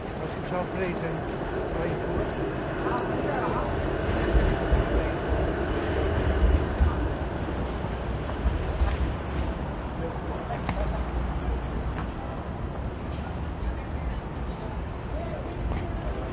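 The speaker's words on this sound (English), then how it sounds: "There's a 504 King streetcar that'll be going all the way to Dundas West Station." A 504 King streetcar rolls along a downtown Toronto street, a steady loud rumble of wheels and traffic noise filling the whole stretch with a swell near the middle, with people talking faintly around it.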